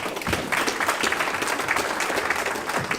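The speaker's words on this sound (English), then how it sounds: "Let's give him a round of applause, please" A monthly club meeting audience claps for a committee member named Nick, a moderate round of applause from a modest crowd, fairly even and continuous without speech.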